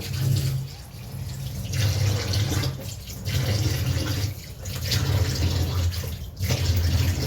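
Water poured over a varnished pine wood bench in a workshop, a steady splashing rush that swells and dips in several waves, fairly loud and close, with no talk.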